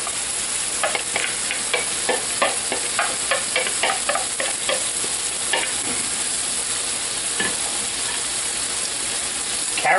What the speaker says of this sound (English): Chopped meat browned about 6 minutes in a little olive oil, salt, and pepper.